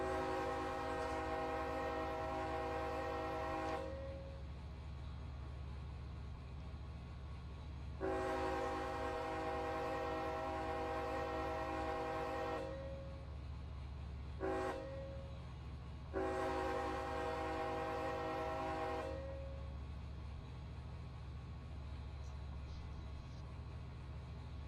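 Union Pacific locomotive horn in Run8 Train Simulator, blown as several long blasts and one short one, sounding loud and near over a steady engine rumble.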